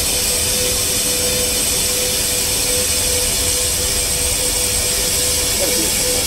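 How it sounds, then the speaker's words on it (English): Jet engine of a Xian Y-20 military transport in the Roblox game Aeronautica, a loud, steady broadband roar with a faint tonal whine that holds at even volume throughout. "First military transport jet."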